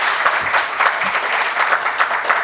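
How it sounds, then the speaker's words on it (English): An audience at a corporate summit applauds a panel of speakers, a loud, even burst of many clapping hands filling the hall without pause. "Let's give them all a huge round of applause."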